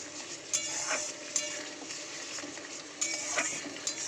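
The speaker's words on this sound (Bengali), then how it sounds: "যতক্ষণ না মশলাটা দিয়ে তেল ছাড়ছে ততক্ষণ কিন্তু মশলাটা আমি কষিয়ে যাব" Masala with tomato is fried and stirred in a pan for a curry, a steady close sizzle broken by repeated scraping and clinking of a spoon against the pan, with no talk.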